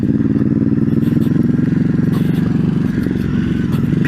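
A Ducati Hypermotard 950SP rides through wet, slippery mud, its engine throbbing steadily and loud throughout, with faint clatter and scraping from the tyres and chassis.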